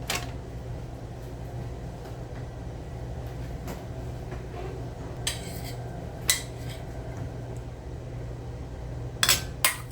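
Turkey meatloaf and buttered, honey-glazed carrots are served onto a plate in a home kitchen, with a few sharp clinks of a utensil against the dish over a quiet room hum and no talking.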